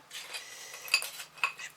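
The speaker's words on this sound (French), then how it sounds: "je crois qu'avec les ciseaux, ça coupe quand même" Scissors snip the stems of a small flower bouquet at a crafting table, giving a few soft, close metallic clicks and scraping sounds over quiet background.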